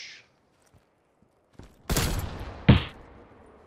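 Gunshots in Call of Duty Cold War: a few sharp, loud cracks after near silence, one heavy shot followed by a shorter second report, with faint mechanical clicks before.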